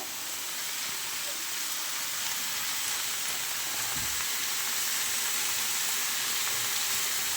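Bottle gourd with turmeric in a frying pan makes a constant loud hiss of frying, with a faint scrape or two of stirring underneath and no one speaking.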